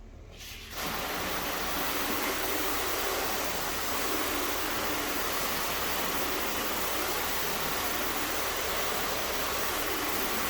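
Water sprays steadily across a car panel being washed, a broad, even hissing rush that starts abruptly and holds constant and fairly close for about ten seconds with no voices.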